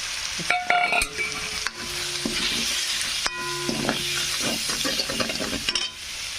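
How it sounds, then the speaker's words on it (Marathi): Tomatoes frying with black masala, coriander powder, turmeric and salt for mutton kheema, a loud close sizzle broken by ringing clinks and scrapes of a metal spoon stirring against the pan. "टमाटर तळलं ना तर लगेच टाकायचं काळा मसाला, धने पावडर, हळद आणि मीठ टाकून घ्यायचं."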